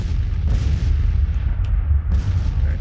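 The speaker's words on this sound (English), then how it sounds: "the artillery is starting to open up." Civil War cannon fire in a strategy game, loud deep booms landing every second or so, with a rolling low rumble between the blasts and no voices.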